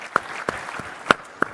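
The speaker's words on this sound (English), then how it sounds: "Let's have a round of applause for Matt's pitch." At a waste-management congress closing ceremony, the audience gives only a few sparse, distinct handclaps spaced apart rather than full applause.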